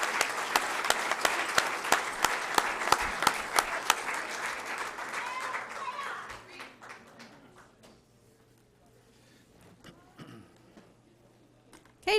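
A room of attendees at a school district board meeting gives students a round of applause as they leave the floor; loud, crisp clapping with sharp individual claps fades out after about six seconds into near quiet with a few faint taps.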